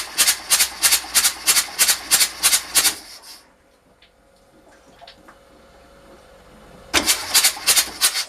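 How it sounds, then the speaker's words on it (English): A sunken sailboat's engine cranks in a fast, rhythmic chugging burst, falls quiet to a faint low hum with small clicks, then cranks again in a loud repeating pulse. "The engine was ticking over nicely"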